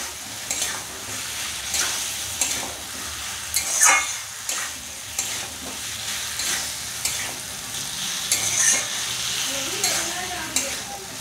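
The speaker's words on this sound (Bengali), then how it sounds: "এবার এর মধ্যে দিয়ে দেবো মাংসগুলো দিয়ে আর একটু ভালো করে কষিয়ে নেব।" Meat sizzles in a pan as it is stir-fried into a cooked-down spice paste for a Bengali curry. Steady frying hiss runs under repeated scraping strokes of a spatula against the pan, close and continuous with no talk.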